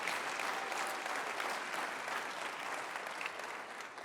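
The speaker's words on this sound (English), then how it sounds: "if one person's going to clap, let's all clap" Steady applause from a church congregation, a dense continuous patter of many hands clapping at even loudness throughout, with no voices over it.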